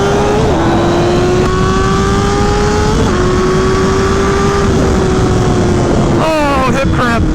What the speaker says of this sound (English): his bike is so loud that, like, legit, I need earplugs to ride beside him